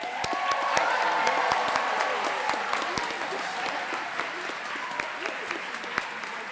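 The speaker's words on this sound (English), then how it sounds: "Let's give another round of applause to our brave students who came up to share" Sustained audience applause at a 2023 Evergreen graduation ceremony, dense steady clapping from a large crowd filling the whole stretch, holding loud throughout with a slight easing toward the end.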